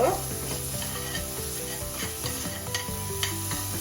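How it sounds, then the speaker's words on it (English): Lentil dhal with garlic and ginger stirred in a sizzling pan, a continuous close frying hiss with scraping spoon strokes running steadily throughout, no voices. "So we'll add all this now, and we'll give this a good mix in"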